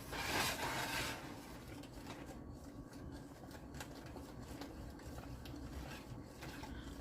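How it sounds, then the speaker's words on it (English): Grape ketchup with lemon juice stirred in a pot, a soft continuous scraping and swishing of a spoon, faint and close, steady throughout with no speech. "So we're going to get this all mixed up."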